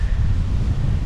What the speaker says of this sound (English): Sorry about the wind, guys. It's getting ready to storm out here.